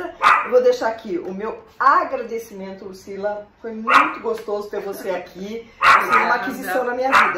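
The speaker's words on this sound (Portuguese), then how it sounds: "peço desculpa pelos latidos, eu não quis interromper a nossa entrevista" Two small dogs bark and yip intermittently in the background of a Portuguese-language interview, their short sharp barks sounding mostly under steady close speech.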